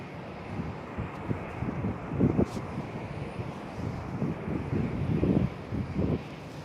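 An Air France airliner taxiing past at Schiphol airport, a low rumbling engine drone that swells and fades in uneven waves, mixed with wind buffeting on the microphone.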